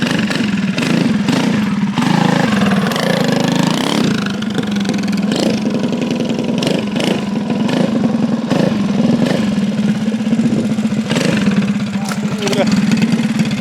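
A 79 cc minibike engine runs steadily nearby, a loud buzzy mid-pitched drone that barely changes, while people talk over it.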